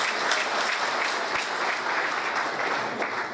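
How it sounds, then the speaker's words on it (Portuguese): Steady, full applause from the audience at a solemn session honoring the Espírito Santo Military Police, given for a colonel, with dense clapping running the whole time at an even level. "eu queria pedir uma salva de palmas ao coronel Reli"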